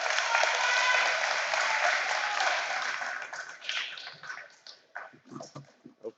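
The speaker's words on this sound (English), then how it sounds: "So one more round of applause for the girls." Audience applause at an award ceremony, loud sustained clapping from a crowd that thins out into scattered individual claps near the end.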